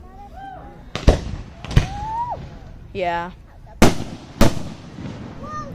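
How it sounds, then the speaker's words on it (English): Fireworks at a backyard show in Kansas burst in sharp booming cracks, with whistling rockets rising in between, loud and close, while a person speaks briefly. "they're probably gonna light like 8 fireworks at the same time."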